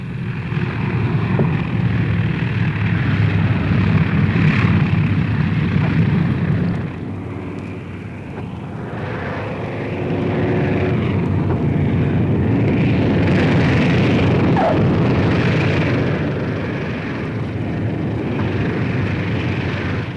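Boeing B-17 Flying Fortress bombers come down one after another onto steel matting at a wartime airfield in Russia, a loud sustained propeller-engine roar that swells and eases, with no voices.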